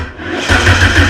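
A 2.4 litre engine swapped into a Dodge Neon cranks and catches in a brief, rough burst, coughing as it backfires through the throttle body, loud and close with no talking.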